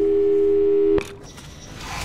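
Telephone call tones in the puzzle game Portal 2: a steady, loud, unbroken tone for about a second, cut off by a click, then a quiet room tone with faint noise.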